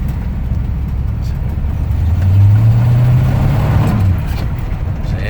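A 1974 Chevy K10 pickup engine rumbles steadily at close range as the truck pulls into a garage, with a low drone that swells briefly in pitch and loudness midway before settling back.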